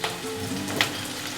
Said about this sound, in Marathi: तेलात जो कांदा टाकला त्याचा आवाज येतो ना, तो मला खूप आवडतो